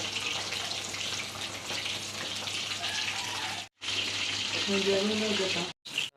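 Fish tikka fries in hot oil with a dense, steady sizzle and crackle close by, broken by two brief gaps, and a voice talks over it near the end.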